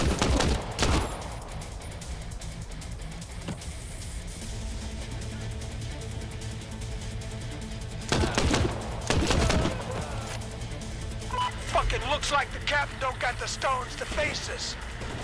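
Bursts of rapid gunfire from the video game Crime Boss: Rockay City crack out at the start and again midway, with a steady background hum and some chirpy effects near the end.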